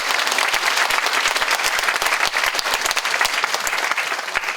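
A symposium audience applauds, a dense burst of many hands clapping that stays loud and steady from start to finish.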